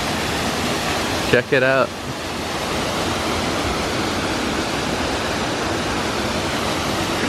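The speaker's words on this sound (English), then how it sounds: "So you got a cool little waterfall here." Small waterfall in the El Yunque rainforest, Puerto Rico, pouring as a steady, loud broadband rush that fills the whole clip, with a brief spoken remark near the start.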